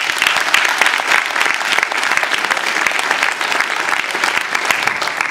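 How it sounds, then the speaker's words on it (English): An education forum audience in a historic theater applauds principals, educators and superintendents, loud dense clapping sustained across the whole stretch without letting up. "Let's give them a round of applause."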